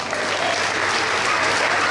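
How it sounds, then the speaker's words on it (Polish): Crowd applause at an award ceremony for an extreme mountain half-marathon in Poland, a dense, steady wash of many hands clapping at even loudness, with no voices standing out. "Wielki brawa!"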